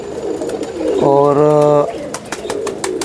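Pigeons kept on a rooftop for pigeon-flying give a single sustained, tonal coo of nearly a second, loud and close, amid a voice talking and scattered clicks and rustles.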